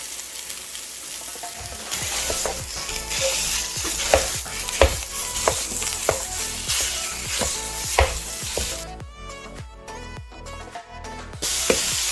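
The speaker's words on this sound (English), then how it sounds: "So while our sausage is cooking," Italian sausage frying in a pot, a steady sizzle broken by regular scraping stir strokes that grow louder in the middle, then a brief quieter stretch near the end.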